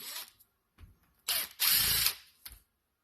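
Clicking ratchet-like bursts as a Phillips No. 2 screwdriver backs out the screws of the fuel-shutoff carburetor solenoid on a Honda N600/Z600, several short close bursts with pauses between them.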